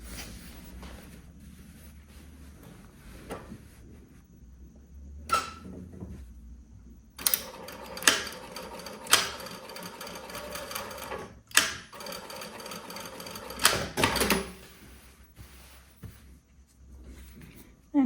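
A sewing machine stitches a few short bursts to close a skirt pocket, with quiet handling and pauses between runs, close and moderately loud.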